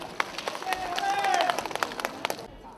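Audience applause at a provincial farmers' ideas contest in Dien Bien, Vietnam, clapping steadily for about two and a half seconds with a voice speaking over the crowd before it drops off.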